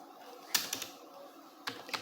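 A few quiet, scattered keystrokes on a computer keyboard as a web address is entered in a browser, faint close clicks in two small clusters with no talk.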